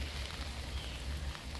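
Rain patters steadily on the fabric canopy of a roof top tent outdoors, a soft, even hiss of drops with no voices.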